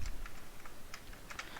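Fast, light keystrokes on a computer keyboard while JavaScript code is typed, quiet and close, with irregular clusters of clicks.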